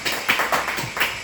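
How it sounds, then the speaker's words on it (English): Audience applause, a brief burst of scattered hand clapping at a community gathering, mid-level and close, with no talk over it. "Clap it up. Clap it up."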